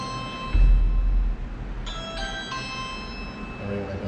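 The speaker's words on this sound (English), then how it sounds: "I rang the doorbell." A doorbell rings inside an Arizona Titan II missile silo, a few clear electronic chime tones sounding after a low thump, followed by a quieter ringing tail.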